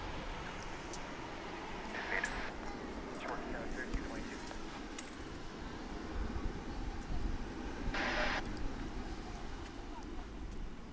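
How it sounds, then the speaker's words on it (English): A low, steady jet engine rumble and roar comes from an American Airlines jet in Medal of Honor livery taxiing at DFW International Airport, with wind noise and someone talking over it. "here comes the Medal, I think it's called the Medal of Honor livery, the American Airlines jet there in on the move there in the foreground"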